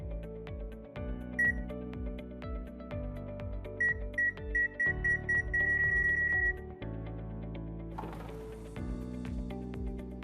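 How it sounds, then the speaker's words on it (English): An RFID tablet app emits electronic beeps while locating a spare part, single tones at first then quickening into a rapid run of closely spaced beeps, heard over a low tonal hum with no speech. "the tablet will beep more as I get closer to the part that I'm looking for"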